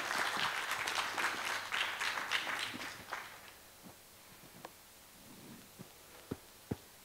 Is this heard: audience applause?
yes